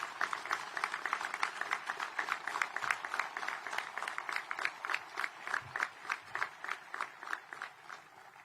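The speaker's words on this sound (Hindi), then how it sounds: "अपने स्थान से ही तालियां बजाकर सभी का अभिनंदन" A seated audience claps in steady, evenly spaced unison beats at an army ceremony honouring Olympic medal winners in Pune. The rhythmic applause sounds fairly distant and continues throughout without voices over it.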